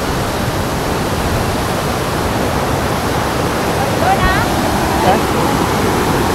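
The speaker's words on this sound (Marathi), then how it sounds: "वरती खळसून पाणी येतं" Falling water roars in a dense, continuous rush at Dajipur in the rainy season, loud and close, with a brief faint whistle-like sound partway through.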